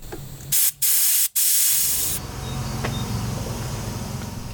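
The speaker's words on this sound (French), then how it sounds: "C'était fabuleux ensuite de déboucher la vis de purge à l'avant gauche." Front-left brake bleed screw opened on a Saab 9-5 Turbo during a renovation, a loud sharp spray hiss in short bursts, then a softer steady hiss fading under a low background hum.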